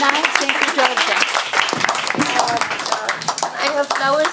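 An audience at a fireside chat event at Château Papillon claps steadily and fairly close, with dense overlapping hand claps carrying on throughout while voices, including a child's, talk over them.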